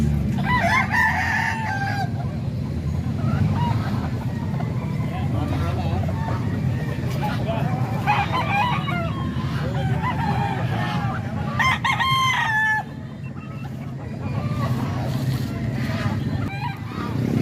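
A Gilmore gamefowl rooster tied at the side of a market crows several times at close range, with a couple of separated calls standing out over steady background noise and a voice talking.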